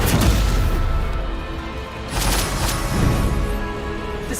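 A Stupefy spell cast in a video game, a loud booming blast that fades, followed by a second broad burst.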